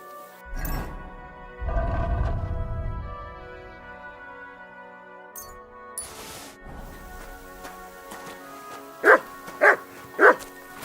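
A dog named Mutt barks three times near the end of a scene in Kingdom Come: Deliverance II, loud close yaps in even rhythm, after earlier thuds, a crash and quiet game music.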